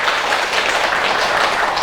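Steady, dense applause from an audience gathered for a Buddhist monk's dharma lecture at a temple, loud and continuous with no voices on top.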